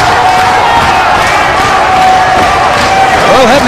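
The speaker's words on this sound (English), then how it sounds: "Devon and this crowd encouraging Brother Ray." A packed wrestling arena crowd at a TNA/UWF event in Danville, VA roars steadily and loudly throughout, a dense wall of cheering with scattered shouts and a rising voice near the end.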